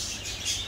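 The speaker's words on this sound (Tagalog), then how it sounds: "Mga ibon." Birds chirping at a pet shop, a bright continuous twittering carried over steady background room noise, short and fairly close.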